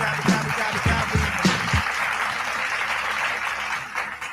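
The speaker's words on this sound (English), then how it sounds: "Hey, clap it up." An audience claps steadily and fairly loudly, with a few deeper thumps early on, settling into a broad, even wash of applause.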